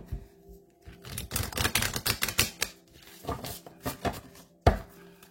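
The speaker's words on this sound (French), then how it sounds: "Non, on me dit de brasser encore." Rapid crisp riffling and slapping of playing cards being shuffled, close and fairly loud, in several bursts of dense clicks with short pauses and a final sharp snap.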